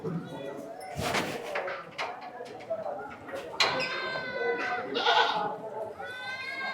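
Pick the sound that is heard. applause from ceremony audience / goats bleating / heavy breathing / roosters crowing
goats bleating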